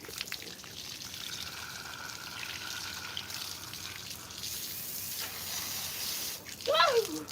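Water running and splashing while a deer skull mount is washed off, a soft continuous trickle and spray at close range, fairly quiet, with a brief higher squeak near the end.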